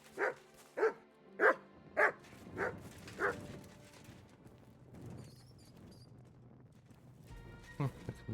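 Several sharp barks in quick succession from Max, a dog in the video game Kingdom Come Deliverance 2, close and loud, followed by a quieter stretch of ambient game sound and a brief late yelp.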